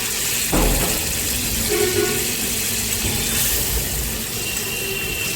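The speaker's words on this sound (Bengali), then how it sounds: "মশলার বাটি ধোয়া জলটা দিয়ে দিচ্ছি এখানে" Spice-bowl rinse water poured into a pan of Bengali fish curry, a steady splashing wash of liquid lasting throughout at moderate loudness, with no talking.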